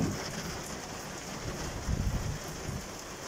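Steady monsoon rain falling in Lahore, a constant hiss with occasional heavier patters and low rumbles.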